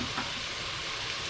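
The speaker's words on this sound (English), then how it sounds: "to semi-cook some of this onion and bell pepper. Now while this is cooking" Onion and bell pepper sizzle in a hot pan for Louisiana red beans and rice, a close, steady frying crackle with a faint stir near the start and no voice.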